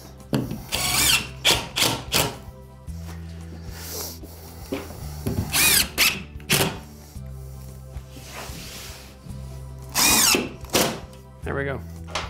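Power drill driving screws into drywall during a wall installation, several short bursts of whirring close by, a steady motor hum underneath and a voice talking between bursts.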